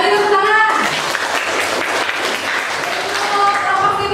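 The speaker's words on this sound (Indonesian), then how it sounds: "Ya, beri tepuk tangan." A class applauds after a group dance presentation, a continuous burst of clapping at close range, with a voice speaking briefly at the start and again near the end.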